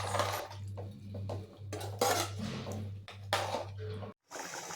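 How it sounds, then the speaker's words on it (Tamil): Metal clinks and scrapes of a spoon stirring chicken into a spicy curry in a pot, repeated in short bursts over a steady low hum, fairly close. "இந்த ஸ்டேஜில் கழுவி வச்சுருக்க சிக்கனை ஆட் பண்ணி நல்லா கலந்து விடணும்"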